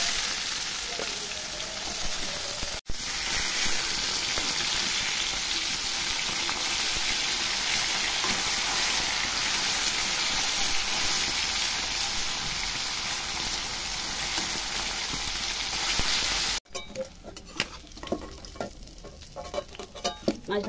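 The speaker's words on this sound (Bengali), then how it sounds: "মাছ ভাজা হয়ে গেছে বন্ধুরা" Fish frying in oil in a pan gives off a loud, steady sizzle that runs unbroken for most of the time, then turns thinner and more broken near the end, with no talking.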